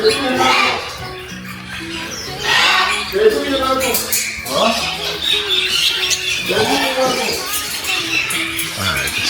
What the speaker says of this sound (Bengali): এখানে একটা রেড মেকাও আছে